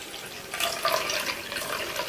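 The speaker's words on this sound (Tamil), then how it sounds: "மீதிக்கு தண்ணி சேர்த்துக்கலாம்." Water runs into a measuring cup at close range as dough is prepared, a steady splashing stream that stays even in level for its short length.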